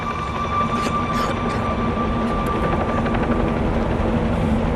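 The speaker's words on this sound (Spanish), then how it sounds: "El ruido del helicóptero era cada vez más fuerte y de pronto comenzó a desvanecerse" Helicopter flying overhead, a loud continuous rotor roar with steady engine whine that holds throughout, close and dominant, no voices heard.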